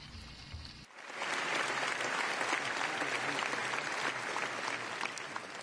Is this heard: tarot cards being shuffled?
no